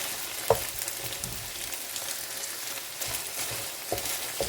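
Minced meat fries quietly in a pan with a soft continuous sizzle, punctuated by a couple of sharper utensil taps and scrapes.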